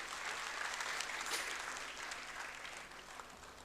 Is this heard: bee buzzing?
no